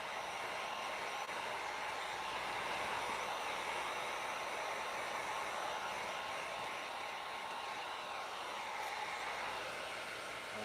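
A heat gun blows steadily during leather work, making a continuous, even airy whoosh with no voices over it.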